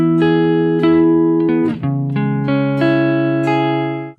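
Acoustic guitar strumming barre chords in rhythm, two bars of crisp repeated strums with ringing sustained chords, played clearly and alone.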